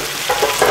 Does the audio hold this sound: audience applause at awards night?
no